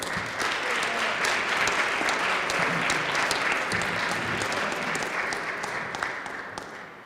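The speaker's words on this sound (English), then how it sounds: "So let's give a nice round of applause to our mayor, Mayor Tom Hoy." A hall audience at a Massachusetts Senate visit to BCC Taunton gives the mayor a round of applause, a sustained dense clapping that holds steady, then thins and tapers off toward the end.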